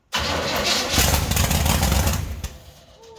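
A rat rod's engine cranks and catches, a loud close churning burst that runs about two seconds before sputtering and fading out.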